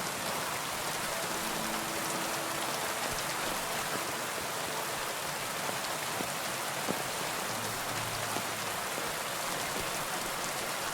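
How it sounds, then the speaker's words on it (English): Heavy rain in the video game Kingdom Come: Deliverance II, pouring steadily and loudly, a dense hiss filling the whole stretch without pause. "Oh, it's raining a lot."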